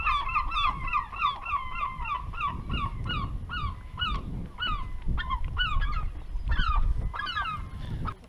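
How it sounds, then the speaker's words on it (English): Gulls call repeatedly over an island anchorage on the Grevelingen inland sea, a rapid run of loud honking, laughing cries from several birds, fairly near, over a low rumble of wind and water. "Look at those gulls."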